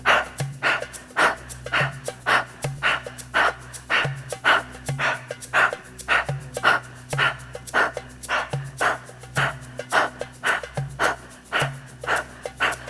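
Heavy rhythmic breathing during a kundalini yoga exercise: forceful, evenly spaced breaths repeat rapidly and steadily over a faint musical drone, close to the microphone, with no speech.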